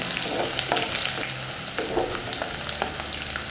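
Chopped eggplant sautéing in hot oil in a pan for a village-style dry fish curry, a steady loud sizzle with repeated scrapes of a stirring spoon and no talking.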